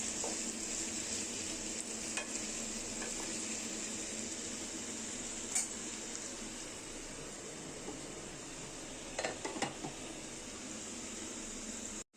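Potatoes fry quietly in a pan in a home kitchen, giving a soft, even hiss with a couple of brief scraping stirs partway through.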